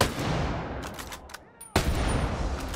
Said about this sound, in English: So this definitely sounds like a 50 calibered weapon.